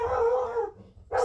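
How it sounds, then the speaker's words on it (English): Pet dogs indoors let out a loud, sustained howl-bark lasting under a second, then a brief quiet before another sharp bark bursts in, close to the listener. "Sorry about my dogs freaking out."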